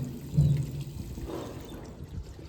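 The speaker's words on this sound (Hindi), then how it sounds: "गाइस इन भाई साहब ने शीशा गंदा कर रखा है और मैं इसको पानी डाल के साफ कर रहा हूँ।" Water is poured over a dirty glass pane to clean it, a short splashing pour at the start that fades into faint trickling, with no talk.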